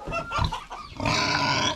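A pig on a homestead grunts loudly and close up in a short series of rough, snorting oinks, alone with no talk.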